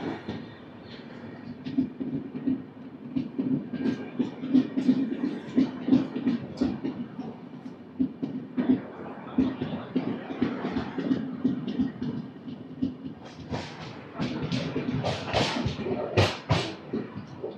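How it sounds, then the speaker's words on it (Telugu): Satavahana Superfast Express, train 12713, pulling out of Madhira station after a one-minute halt, with a steady low rumble and rhythmic clatter of wheels over rail joints that grows busier and louder toward the end. "1 మినిట్ హాల్ట్ తర్వాత మదిరా నుంచి డిపార్చర్ అయిపోయింది మన శాతవాహన"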